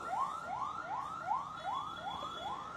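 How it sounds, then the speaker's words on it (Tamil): Ambulance siren wailing in a rapid repeating rising sweep, about seven cycles, steady and moderately distant over faint background noise. "ஆம்புலன்ஸ் தான்"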